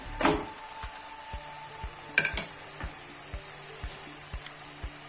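Ginger-garlic paste, chili paste and spices fry together for a mixed egg and fish curry, a bright sizzle under regular scraping strokes of a spoon against the pan, close, with no one speaking.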